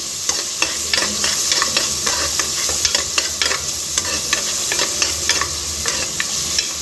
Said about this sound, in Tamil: நான் அதில் ஐம்பது மில்லி நல்லெண்ணெய் ஊற்றி ஒரு ஸ்பூன் சோம்பு போட்டு தாளித்து ஒரு கற்று கருவேப்பிலை போட்டு கொஞ்சமாக பெரிய வெங்காயம் ஒரு தக்காளி பழம் எல்லாம் போட்டு தாளித்து விட்டேன்